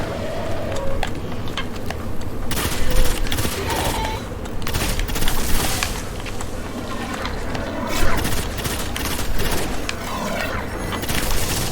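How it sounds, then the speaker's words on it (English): Rapid gunfire from a weapon in the Destiny 2 video game, a dense barrage of shots and booming impacts running continuously under busy game effects. "let me show you what the gun does."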